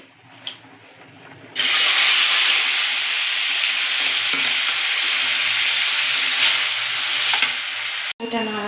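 Taro leaves hit hot oil in a wok with tempering spices, and a loud, steady sizzle starts about a second and a half in and holds to the end, with no talk over it.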